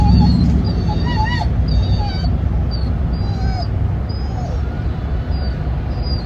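A dog whimpers and yips in a series of high, thin whines, most frequent in the first two seconds and trailing off later, heard up close over steady low background noise.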